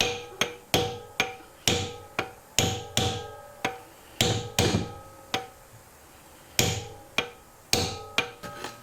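A small hammer raps repeatedly on a dropped valve seat in the cylinder head of a 1997 Ford Escort engine, producing close, sharp metallic strikes in uneven bursts with a short pause midway and no talk.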